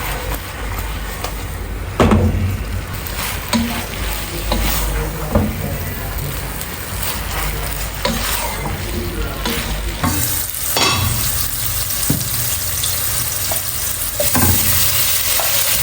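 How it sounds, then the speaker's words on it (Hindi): Sliced onions frying in oil in a pan, the first step of a potato and capsicum curry, give a loud, close, continuous sizzle. Repeated scraping stir strokes cut through it, and no one speaks. "मैं सबसे पहले प्याज ऑयल में डाल के हल्के से फ्राई किए हैं"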